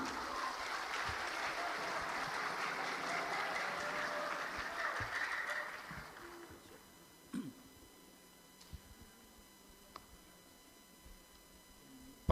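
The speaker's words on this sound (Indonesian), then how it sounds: "Bersama-sama kita berikan tepuk tangan bersama." An audience at a Qur'an quiz competition final claps together for several seconds, then the applause fades out, leaving a quiet room with a few scattered ticks and knocks.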